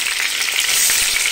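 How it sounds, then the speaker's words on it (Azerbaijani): Village chicken pieces fry in their own rendered fat, giving a steady, loud, close sizzle and crackle with no voices. "Baxın, hər birini bu cür qızardıram."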